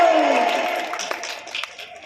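Applause and crowd noise at a Bhagwat katha gathering, steady broadband clapping that fades slightly over two seconds while a voice carries over it.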